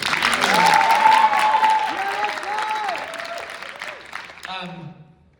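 An audience at a youth musical theatre festival performance of Into the Woods applauds a performer, a burst of clapping that is loudest at first and then tapers, with voices speaking over it.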